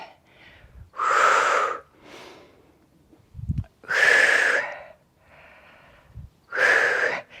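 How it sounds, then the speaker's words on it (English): Three loud, deliberate breaths during a lower-body Pilates glute routine, each a forceful airy rush lasting close to a second, separated by quieter gaps with faint soft thumps, recorded near the microphone. "Breathe in, breathe out, and again."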